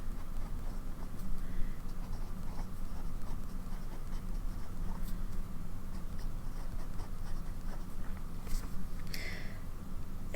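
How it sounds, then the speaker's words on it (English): A fountain pen filled with Montblanc Irish Green ink scratches across paper in a steady run of faint, soft strokes and taps, close up and quiet, with no talking. "I don't know if this pen likes this paper or if it's just been sitting a minute."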